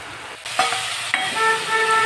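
Spices and a bay leaf fry in hot oil during a Bengali home cook's birthday dish, a steady close sizzle with two sharp stir scrapes and a faint high tonal whine near the end.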